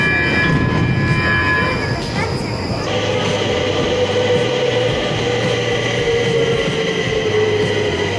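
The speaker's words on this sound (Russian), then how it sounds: "Стокгольмское метро." A Stockholm metro train runs loudly and steadily, with a rumbling low drone, tonal whine and squeal early on, heard close from inside the car; a faint voice is briefly present.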